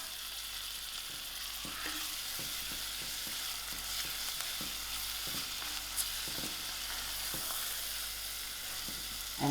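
Lamb mince frying in a pan with pepper and paprika, a steady close sizzle with scattered soft stirring clicks throughout, no talking.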